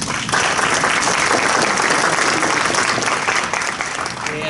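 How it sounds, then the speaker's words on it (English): An audience at a small business development press conference breaks into loud, sustained applause, thick continuous clapping that eases off a little toward the end. "Let's give them a round of applause."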